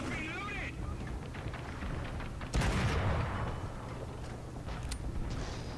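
Tank cannon fire from an M3 75mm GMC tank destroyer in War Thunder, a single heavy boom midway through over constant engine rumble and battle noise.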